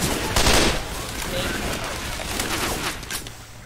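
Rapid bursts of gunfire from Left 4 Dead, the zombie shooter played here with Christmas mods, crackle through a tunnel fight, with the loudest volley near the start and scattered shots after, over a steady game background.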